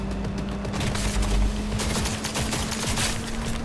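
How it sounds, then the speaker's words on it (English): Tech weapon fire in the Cyberpunk 2077 video game, a rapid burst of loud overlapping shots with booming low thuds over a steady electronic hum. "Tech weapons allow you to charge up powerful shots that can pierce light cover to hit enemies."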